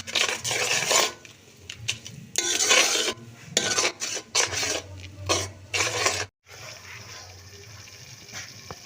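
A spoon stirs ground red chili, turmeric and other spices into a chana dal gosht mixture in a pot, producing scraping, clinking strokes in bursts with short pauses between them and no speech.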